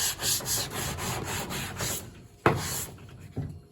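A wooden board is sanded by hand with 180 and 320 grit sandpaper, giving steady rhythmic rubbing strokes, close and moderately loud, with a couple of sharper scrapes near the end and no talk.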